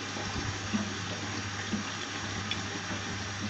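Water flowing steadily into a washing machine during a laundry load of black and dark clothes, a constant rushing fill with faint background clatter.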